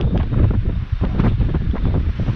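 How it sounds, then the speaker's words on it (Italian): Strong wind in Sicily buffets the microphone near the sea in Mazara del Vallo, a loud, continuous rumbling roar with gusting surges and no speech. "Mi porta via il vento!"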